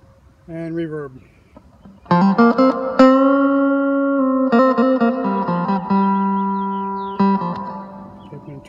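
Electric guitar played clean on the neck pickup through a Line 6 Spider 15 amp with reverb, a quick picked figure followed by ringing sustained chords that bloom and decay in a roomy wash.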